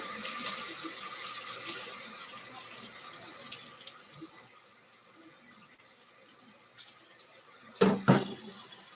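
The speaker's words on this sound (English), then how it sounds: "Let me turn the water on. Let it heat up to hot so I can rinse the bowl." Kitchen tap water runs into the sink in a steady hiss as it heats up to rinse a bowl, dropping lower partway through, then a couple of clunks as something knocks in the sink.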